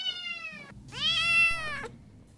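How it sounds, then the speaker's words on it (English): A cat meows twice up close, first a short call and then a longer, rising and falling meow after a brief pause, with no voices around it. "Cute kittens coming up in the show."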